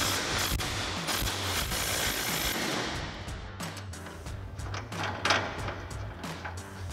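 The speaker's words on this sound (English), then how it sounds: "we'll get our 21mm wrench. Go ahead and pop this off." A 21mm wrench works a bolt loose near a vehicle's suspension shackle, giving dense ratcheting clicks and metallic knocks against a busy, steady mechanical background, fairly close and moderately loud.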